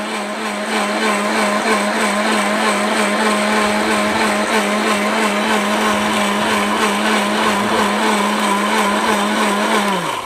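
An electric blender grinds onions into paste with a loud, steady motor whine that holds constant for about ten seconds and then starts to wind down at the very end; no voices.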